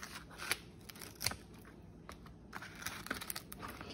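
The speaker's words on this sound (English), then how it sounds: "cut them into little bacon bits" Cooked bacon strips being snipped into small bits, a few faint, sharp crisp cuts spaced irregularly over quiet background noise.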